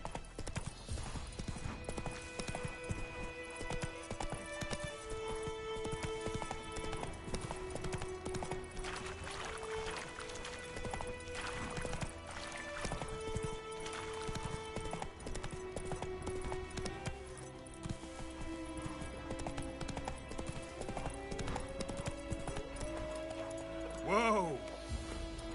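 Roach's hooves clip-clop faintly and steadily in Witcher 3, running under prominent background music with sustained tones throughout.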